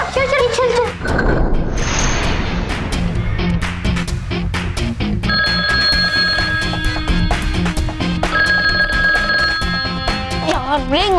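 A telephone rings over and over with no one answering, its repeated bright electronic trills sounding loud and close, mixed with mechanical clicks and voices talking around it.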